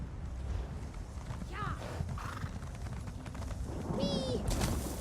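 Horse in Elder Scrolls Online, clip-clop hoofbeats with a whinny and neigh over a game ambience of birds, moderately quiet and steady under faint background sounds.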